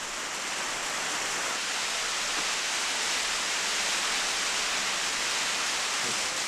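Sudden rain shower over a small stilt village built on the sea, a steady broadband hiss of rainfall that holds evenly and moderately loud throughout, with no voices.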